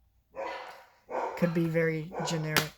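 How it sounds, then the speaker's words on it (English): A dog barks a few times in the background while a person talks over it, the barks short and fairly close. "Sorry if you hear my dogs barking."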